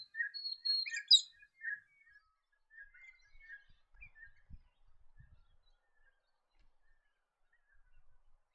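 A galah in the Lockyer Valley at Gatton gives a series of high, scratchy screeches, strongest early on and then trailing into fainter, scattered calls against near silence.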